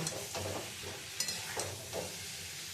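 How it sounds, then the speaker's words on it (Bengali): Potatoes frying with spices in a pan for Kashmiri dum aloo, a continuous soft sizzle broken by several stirring scrapes, close and fairly quiet, with no talking. "এবার আমি আলুটা দিয়ে একটু কষিয়ে নেব।"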